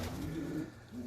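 Pigeons coo in a breeding loft, low throaty warbling calls rolling one after another, close and steady with no voices.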